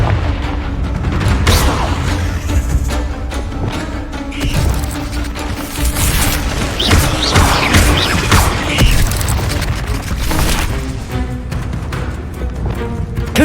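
Fire-blast spell explosions booming in the Hogwarts Legacy video game, a dense stretch of repeated loud crashing blasts with rumbling low end and chaotic combat noise throughout, no clear speech.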